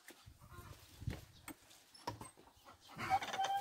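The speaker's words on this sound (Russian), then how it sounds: "кудахкает какая-то, несется." A laying hen clucks in short, scattered calls amid rustling farmyard noise, fairly close but not loud.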